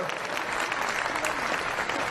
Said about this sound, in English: Korean War veteran, give him a round of applause for his service